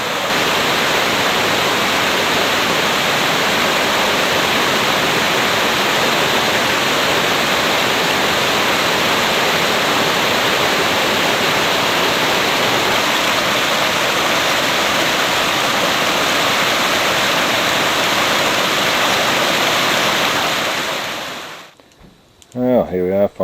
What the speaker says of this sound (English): plenty of water coming down the creek